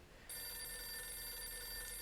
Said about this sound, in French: Ah, mon téléphone. Je réponds pas, je veux pas être spoil.